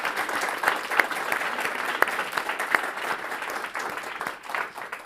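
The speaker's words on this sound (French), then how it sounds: "mais je pense qu'on peut vous applaudir d'entrée de jeu" An audience at a lunchtime research talk on household finance and financial literacy applauds the speakers. Dense, steady clapping carries on for about five seconds, with a few sharper claps standing out and no voices over it.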